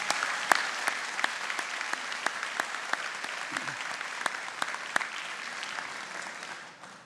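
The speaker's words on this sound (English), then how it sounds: "Perhaps everybody here would join me in a round of applause and congratulations to our graduates." A convocation audience at Mohawk College applauds its graduates with a steady wash of clapping, sharp individual claps popping out at intervals, sustained throughout before tapering off at the very end.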